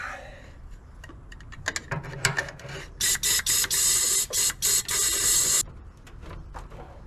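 Compressed air hisses in sharp bursts into the cylinders of a 1971 Ford Mustang engine pulled from long storage with badly pitted, corroded pistons, a run of loud, evenly spaced blasts following scattered shorter puffs.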